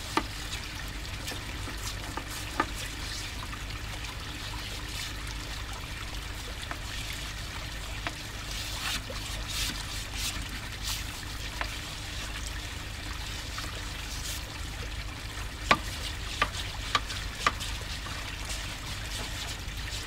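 Water trickles and pours steadily through a Gold Cube gold-recovery unit over matting, a soft continuous flow with faint intermittent ticks and no one speaking.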